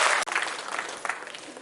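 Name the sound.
audience applause for the singers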